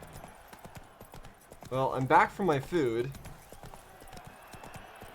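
Horse hooves in The Witcher 3 clip-clop at a steady trot-like rhythm throughout, moderately close, with someone talking over the middle portion.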